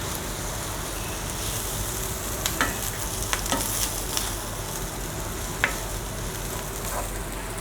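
Rice stirred through a hot pan with a steady, continuous sizzle, broken now and then by faint scrapes and light clinks of a utensil against the pan, close by with no talking.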